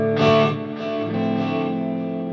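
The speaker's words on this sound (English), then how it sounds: "Little ping pong." Acoustic-style guitar chords on a Line 6 Helix with ping pong delay, a strummed attack followed by bouncing repeats that ring on and blur together.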